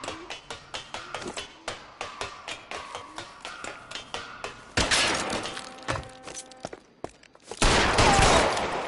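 Gunfire in a police video game: a rapid, steady volley of sharp shots, close and loud, followed by heavier bursts of blasting and crashing noise that swell toward the end.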